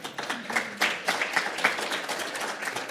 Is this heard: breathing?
no